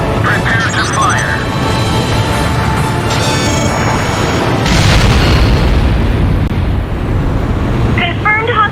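A hostile submarine explodes in Ace Combat Joint Assault, a heavy booming blast rising under steady engine drone and radio chatter, with a louder surge around the middle.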